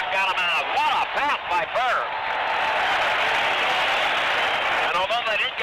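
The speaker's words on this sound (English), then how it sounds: "They applauded that pass." A basketball arena crowd applauds a pass by Larry Bird in his first NBA game in 1979, a broad steady wash of clapping heard beneath a broadcaster's voice talking over it.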